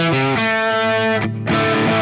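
Electric guitar crunch tone from an Axe-FX II Marshall-style preset on a P90-equipped Telecaster, distorted chords ringing out loud and sustained, with a brief drop in the middle before the next chord strikes.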